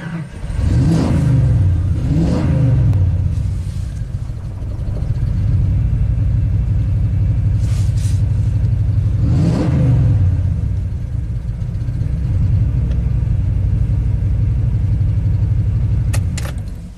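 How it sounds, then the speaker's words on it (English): A rebuilt Ford big-block V8 with a hard-start problem cranks with the throttle floored to clear a flood, giving a loud, continuous, even churning engine note that runs the whole stretch without pause and with no talking. "So now I'm going to try to do a clear flood crank."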